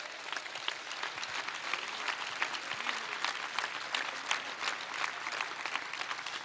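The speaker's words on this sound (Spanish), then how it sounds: "Y yo quiero públicamente pedir un aplauso para los que hicieron ese aporte voluntario solidariamente para la Argentina." Crowd applause at a political speech by Argentine president Alberto Fernández: continuous, dense clapping from many hands, steady and moderately distant, with no speech over it.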